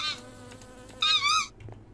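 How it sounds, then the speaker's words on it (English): Bugs in a Minecraft Bedrock New Zealand Natives animal addon make a brief, bright buzzing chirp about halfway through, loud and close, with a fainter buzz at the start and quiet game ambience around it. "Oh, bugs. I love bugs."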